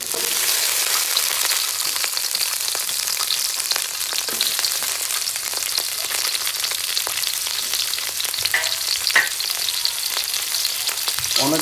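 Cumin, cinnamon, cardamom and ginger sizzling in hot oil in a kadai for a vegetable biryani, a steady bright crackling fry with scattered pops, continuous and close, with no talking.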